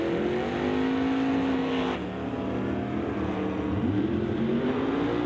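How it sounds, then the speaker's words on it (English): A Corvette launches in a drag race with a loud, sustained engine roar whose pitch climbs and shifts through gears, heard up close without any talk. "Eagleton driving the Corvette."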